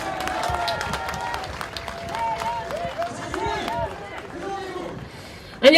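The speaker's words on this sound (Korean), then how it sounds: "송파을 배현진 국회의원 여러분 큰 박수로 맞아주십시오" An outdoor campaign rally crowd in front of Seoul City Hall claps and cheers to welcome a lawmaker, a broad wash of applause under an amplified announcer's voice, with a loud burst at the very end.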